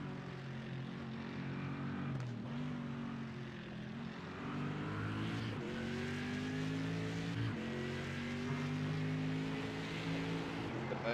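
Mercedes and McLaren race cars in Gran Turismo 4 hold a steady, loud engine drone with rising and falling pitch as gears shift, running continuously for the whole stretch.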